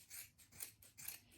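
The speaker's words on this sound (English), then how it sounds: "you can just take a couple of braids and just cut" Scissors snipping through a few braids of hair, three or four crisp close cuts in quick succession, quiet with no talking.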